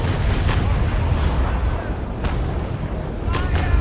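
Naval cannon fire rumbles in a sailing-ship battle in Naval Action, with a dense low roar of broadside booms and several sharper distant cracks, loud and continuous, while voices talk over team chat.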